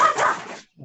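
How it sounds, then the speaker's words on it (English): Dogs bark indoors as mail is delivered: a couple of loud, close yapping barks, one breaking off into a short pause before another starts. "Mail coming. My dogs are going crazy."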